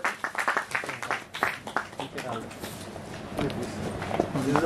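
An audience claps in welcome at a poster launch event, the scattered, uneven clapping carrying on at moderate level under voices talking through the crowd.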